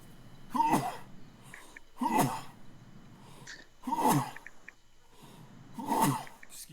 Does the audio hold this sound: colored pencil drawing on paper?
no